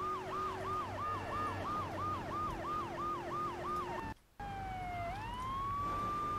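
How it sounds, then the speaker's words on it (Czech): Police car siren in GTA III, wailing in a steady rapid up-down cycle, cutting out for a moment, then returning as a rising and held tone over low traffic rumble. "Zapnu si druhou sirénu."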